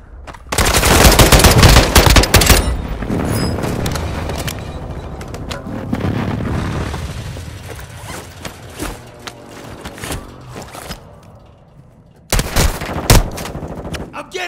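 Heavy automatic gunfire in Call of Duty Warzone 2, dense bursts and booms close and loud at first, easing into sustained softer fire, then a sharp renewed volley near the end.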